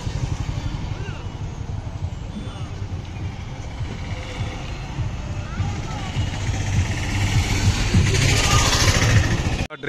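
A tractor engine drones steadily on a ride through a village near Ongole, its low, continuous rumble growing louder toward the end while voices talk over it.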